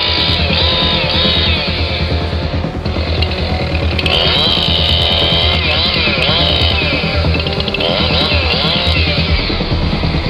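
A chainsaw engine roars steadily and loudly throughout, close by, its pitch wavering as it revs while cutting.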